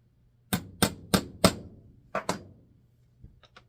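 Metal part from a Garcia Mitchell 308 fishing reel being hammered flat, four evenly spaced sharp strikes followed by two more after a pause and a couple of faint light taps, close and alone.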